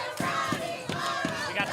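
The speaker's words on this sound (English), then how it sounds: "We got the cheerleaders down here." Cheerleaders at a girls' varsity basketball game between Kellogg and Lakeland chant in rhythmic shouted bursts, about five evenly spaced accented calls over a gym crowd murmur.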